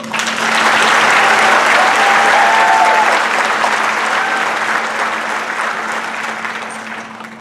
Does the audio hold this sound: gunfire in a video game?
no